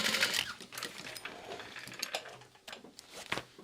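A sewing machine top-stitches a messenger bag, running in a quiet, rapid, even patter of stitches for a few seconds with no talking.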